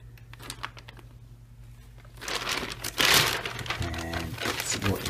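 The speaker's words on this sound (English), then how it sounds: "so he got me this plastic bag, and there's like Turkish writing on it" A plastic bag printed with Turkish writing is handled and rustled, starting quietly and then swelling into loud, close crinkling and crackling bursts for the last few seconds.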